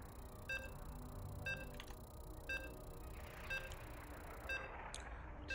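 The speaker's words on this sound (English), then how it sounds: "You can hear the beeps." Regular electronic beeps sound roughly once per second, each short and tonal, while a competitive online game loads into its first match on the ocean board, with a steady background hum and no talk.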